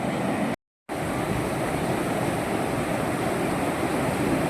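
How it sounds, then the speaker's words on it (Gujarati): Heavy water flow rushing out of the Umiya Sagar dam, a broad, steady roar that stays loud and constant, broken only by a brief cut of silence near the start. "ખળ ખળળ થતું પાણી જાય છે ઉમિયા સાગર ડેમનું પાણી હો ભાઈ પાણીનો પ્રવાહ ખૂબ જ વધી ગયો છે"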